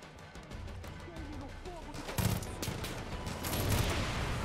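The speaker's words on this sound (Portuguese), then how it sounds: "Ó, tamo até de metralhadora agora." Rapid machine gun fire and bursts in the video game Far Cry 5, a string of sharp cracks that grows denser and louder toward the end, with someone talking over the shooting.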